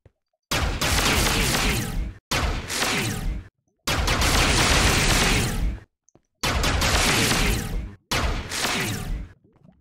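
Loud bursts of video-game gunfire from a Minecraft-style Dalek mod, coming in five dense volleys of roughly one to two seconds each with short silent gaps between them.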